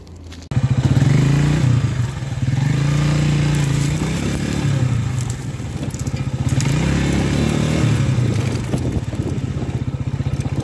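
A Mondial 150 KT motorcycle with a broken gear lever, ridden stuck in first gear: a loud, close, steady engine drone with a rough buzzing tone that surges and eases throughout.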